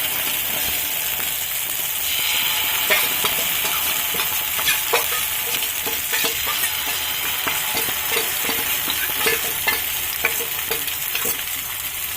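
Neem flower batter made with rice, spices, salt and turmeric frying in oil on a griddle, a steady crackling sizzle with scattered sharp pops and scraping stirs throughout.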